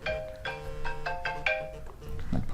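A phone rings with a repeating melodic ringtone, several evenly spaced tonal bursts at moderate volume, with faint room noise between them.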